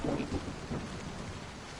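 Rain falls steadily with a low rumble of thunder in a video game scene, a dense, even hiss with a couple of soft low booms early on and no voices.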